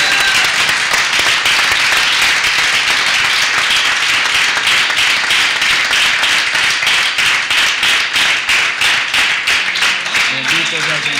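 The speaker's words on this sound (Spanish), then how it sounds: "Démosle un aplauso al Señor" A church congregation applauding the Lord during a service: loud, sustained clapping from many hands, falling into a fast rhythmic beat toward the end, with a voice heard briefly near the close.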